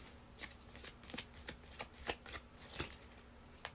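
Quiet, close riffling of tarot cards shuffled in a series of quick, uneven bursts, soft crisp snaps repeating over a few seconds.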